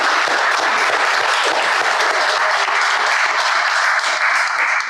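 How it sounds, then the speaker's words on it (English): Audience at a motivational keynote talk bursts into dense, sustained applause, a loud, even wash of many hands clapping together without a break. "give yourselves a round of applause"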